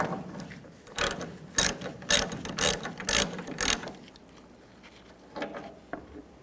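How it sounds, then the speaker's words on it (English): A ratchet with a 13mm socket loosens tailgate hinge bolts on a 1999-2007 Chevy Silverado 2500, several quick bursts of close, loud clicking separated by short pauses, then fainter clicks near the end, with no talk. "Use a 13mm socket. Take these two bolts out."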